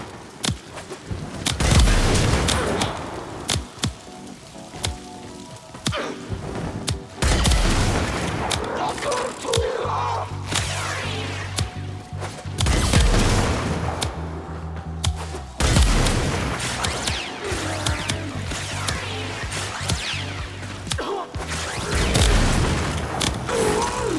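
Kuva Ogris launcher firing in Warframe, a run of loud booming blasts and explosions repeating through the whole stretch, heavy low rumble with mechanical clatter between shots.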